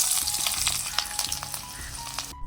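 Small shallots hitting hot oil in a pan alongside chopped green chillies, giving a bright, steady hiss of frying with small crackles, loud and close, then abruptly cut off.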